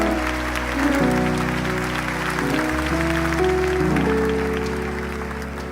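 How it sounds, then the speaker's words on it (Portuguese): A church audience applauds during a sermon, broad steady clapping under sustained organ or keyboard chords with a deep bass drone, swelling briefly then tapering toward the end. "pode aplaudir mesmo com raiva"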